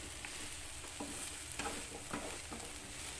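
A salad of broccoli, carrot and cucumber is tossed in a pan, giving a soft continuous sizzle with several light scraping stirs, close and fairly quiet, no voices.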